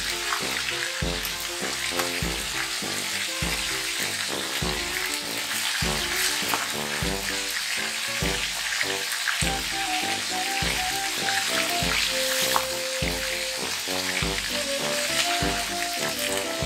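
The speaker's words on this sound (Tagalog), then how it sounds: "Unahin na natin prituhin ang galunggong." Galunggong (round scad) fish fries in a pan with a constant crackling sizzle, set under rhythmic background music.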